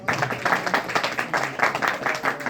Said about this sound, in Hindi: सबसे पहले तो एक जोरदार ताली हो जाए एंजल्स के लिए,